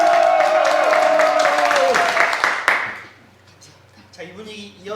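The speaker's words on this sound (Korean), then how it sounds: "박수 함성 시작!" A crowd at a subscribers' offline meetup claps and cheers loudly with shouting voices for nearly three seconds, then the noise cuts off abruptly, leaving a quiet room with a few scattered sounds.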